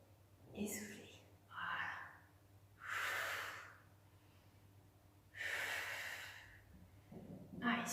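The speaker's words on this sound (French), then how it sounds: "J'inspire et je souffle." Slow, deliberate breaths in and out during a gentle abdominal exercise routine, several soft audible inhales and blown exhales spaced a couple of seconds apart, close and quiet.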